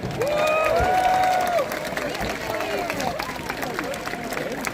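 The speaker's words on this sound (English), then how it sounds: "Let's give Flair a big giant round of applause" Outdoor crowd at a Renaissance festival applauding after a falcon demonstration, steady scattered clapping with cheering voices, a long whoop near the start, fading slightly toward the end.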